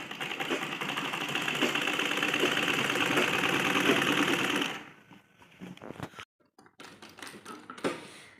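A sewing machine stitches a straight seam on a Patiala salwar, a loud, steady close whirr for several seconds that stops abruptly, followed by quieter fabric handling.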